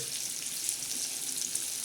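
Steady crackling sizzle of bangda (Indian mackerel) frying in hot oil, a dense continuous hiss with scattered pops, close and fairly loud, no voices.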